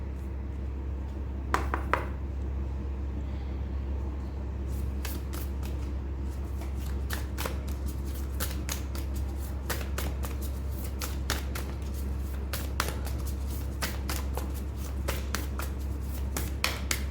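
A tarot card deck is shuffled in repeated bursts of crisp, riffling card flutters with short pauses between them, close and fairly quiet over a steady low hum, with no talking.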